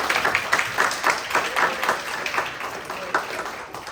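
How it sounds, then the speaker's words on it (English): An audience applauds steadily at an autism awareness town hall, a dense patter of many hands clapping at once for a few seconds. "she deserves a round of applause on that."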